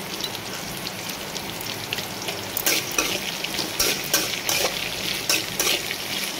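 Onions fry in a pan with a steady, crackling sizzle, joined midway by repeated scraping stir strokes that come in bursts, close and clear with no voices.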